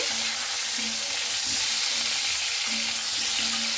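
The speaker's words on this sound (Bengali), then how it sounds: "এরপরে খুব ভালো করে দেখুন নাড়াচাড়া করে নিচ্ছি।" Potatoes sizzle steadily in a hot pan as they are stirred, with a continuous bright frying hiss and occasional scraping knocks from the utensil.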